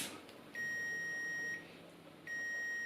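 Multimeter continuity beeps while probing motorcycle stator windings: a sustained electronic tone about a second long, a short gap, then the tone again, fairly quiet with no talk.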